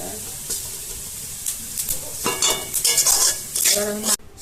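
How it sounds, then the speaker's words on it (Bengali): Sesame seeds and rice dry-roasting in a pan, with a steady crackling sizzle and bursts of scraping as they are stirred, growing busier toward the end before a sudden cutoff. "এই দেন চটপট করে আওয়াজ হচ্ছে, তার মানে হয়ে গেছে।"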